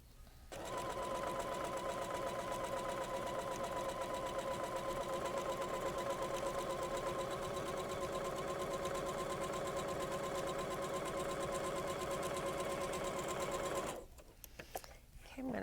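A sewing machine stitches a quarter-inch seam on a quilt block, running loud and steady with a rapid even whir for about thirteen seconds, then stopping abruptly, followed by a few small clicks.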